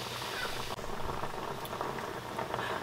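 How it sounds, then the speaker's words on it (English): Cream gravy simmers in a pan, making a soft, continuous bubbling and popping that stays faint and close for a few seconds, with no talk. "we do want it to simmer 3 to 5 minutes because we want to see it thicken"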